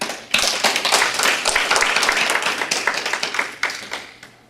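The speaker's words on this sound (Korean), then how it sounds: "우리 여성 동지들 남성을 위해서 박수 한번 치죠." Women in a Korean church congregation clap for the men during a Sunday sermon, a burst of many hands in quick rhythmic claps that thins out toward the end.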